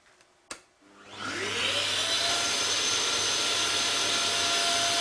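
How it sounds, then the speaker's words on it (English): Vacuum table suction on a CNC machine switching on with a sharp click, then a motor spinning up into a loud, steady, broadband roar that holds without pause, with no talking. "Let's turn on the vacuum and see how it behaves."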